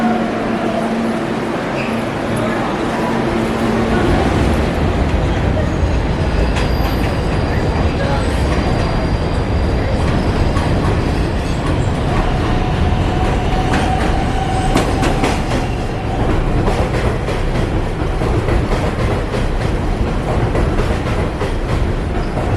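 A New York City subway 7 train runs with a loud, steady rumble and rattling clatter of the cars, interrupted by brief whining tones, while a voice speaks over the noise.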